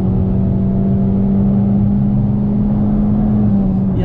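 A car engine drones loudly and steadily from start to finish, a constant hum with a strong low tone that neither rises nor fades, and no voices are heard.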